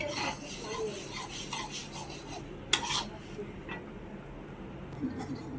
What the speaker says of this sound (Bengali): আমি কুইনিয়াটাকে শুকনো খোলায় ভেজে নিচ্ছি।